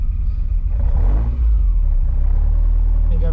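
A Ferrari Dino 208 GT4 pulls away slowly in first gear over a field, its engine a loud, close, low rumble that swells briefly with light throttle, then settles into a steady idle-like drone.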